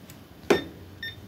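A kitchen timer bumped on a sewing table gives one short, sharp clack followed by a faint, brief electronic beep, both close and isolated against quiet room tone.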